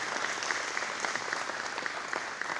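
Steady, dense applause from a large crowd at a men's breakfast gathering, sustained and even throughout with no voices over it.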